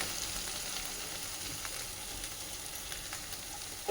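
Vegetables with turmeric fry quietly in a pan, a low steady sizzle with faint stirring scrapes throughout, close up and without voices, ending on a short sharp knock.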